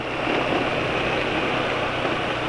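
An engine runs steadily just after an oil change to Axson 10W40 full synthetic, producing a close, continuous broadband hum at constant level with no voices.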